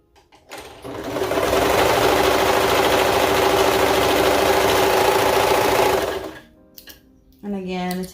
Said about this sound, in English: I like to go ahead and serge the short ends shut.